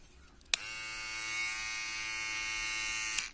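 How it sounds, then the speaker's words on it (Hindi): A Philips electric trimmer switches on and runs with a steady, even buzz for about three seconds before cutting off, heard close and alone. "बहुत अच्छा ट्रिमर है फ्लिप्स का।"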